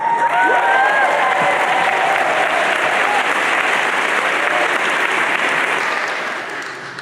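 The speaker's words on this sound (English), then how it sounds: "Let's hear a round of applause" A crowd gives a loud, sustained round of applause at the New School's 2017 graduation recognition ceremony, dense clapping filling the hall from start to finish before easing slightly at the very end.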